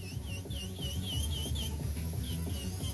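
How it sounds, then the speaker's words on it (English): An electric nail drill running at 23,000 RPM grinds gel off a nail, giving a steady high whine that wavers as pressure shifts, over a continuous low rasping, filing texture close to the listener. "right now I'm using my nail drill actually at a lower speed"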